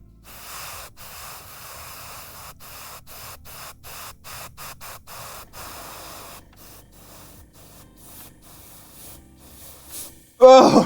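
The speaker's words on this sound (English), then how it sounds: "This airbrush, dude. It wants to shoot so much paint out." A paint-spraying airbrush puffs in rapid short bursts on miniatures, hissing faintly and close, then runs more steadily before a loud knock ends the sequence.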